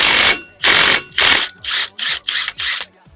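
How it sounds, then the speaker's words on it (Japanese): A wrench loosens the 30mm center nut on the drive shaft of a white Suzuki Wagon R, in seven loud, close rattling bursts, each about half a second long, separated by brief silences. "この 30mm のナットでセンターナットを外します。"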